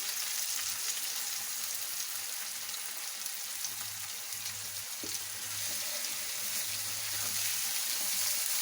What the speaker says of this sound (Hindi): अब इसमें मैं ये टमाटर डाल दूंगी और लो फ्लेम पे इसको अब हम भूनेंगे मसाले को।